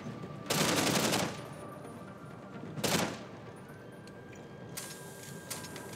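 Gunfire in a shooting video game: two loud bursts of rapid automatic fire a couple of seconds apart, then faint scattered shots at a distance, with no talking.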